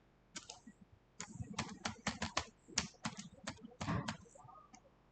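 Keystrokes clatter on a computer keyboard as a user ID and password are entered, bursts of sharp clicks in quick irregular runs with short pauses between, close and fairly quiet.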